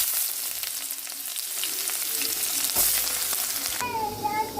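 Onion and tempering seeds sizzle steadily in hot oil in a home kitchen, a dense continuous fry with a louder burst of crackle partway through and a brief shift near the end.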